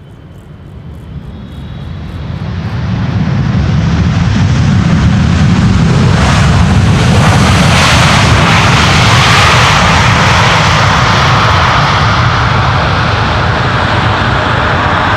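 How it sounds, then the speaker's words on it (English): A two-year-old Airbus A321neo lands on Schiphol's Polderbaan runway 18R. Its engine roar swells from a distant rumble to a loud, sustained broadband wash that holds steady as the plane passes close by, with no voices. "Will it get loud? We'll soon find out."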